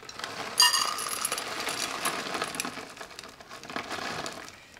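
Chocolate chips pour from a bag into a measuring cup, a busy crinkling rattle of small hard pieces with a sharper spill near the start, continuing as a steady patter and bag rustle at moderate volume.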